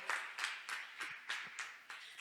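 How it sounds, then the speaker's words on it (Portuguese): A church congregation at a Portuguese worship service claps in praise, a steady rhythmic run of about seven distinct group claps at an even pace, moderately loud. "Aplauda ao Senhor"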